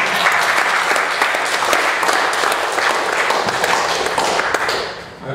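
Steady audience applause at a poetry reading in Dublin, many hands clapping in a dense, sustained wash that holds evenly for about five seconds before easing slightly at the end.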